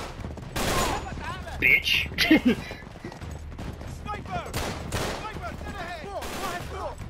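Gunfire in the video game Uncharted 3 during a convoy fight, bursts of shots mixed with game noise and a player's excited talk over the top.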